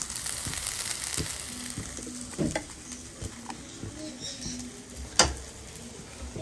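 Potatoes and cauliflower fry in a pan, a faint steady sizzle with occasional stirring scrapes and clinks, while birds coo in the background.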